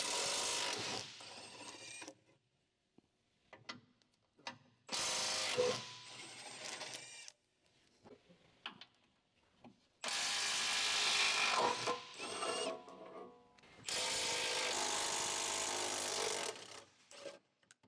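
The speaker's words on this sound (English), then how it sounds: "Using the 18mm deep socket with the electric impact wrench, remove the transfer case skid plate mounting bolts." An electric impact wrench with an 18mm deep socket removes the transfer case skid plate bolts on a 2011-2018 Jeep Wrangler JK, sounding in several loud, sustained bursts separated by quieter clanks and handling noise.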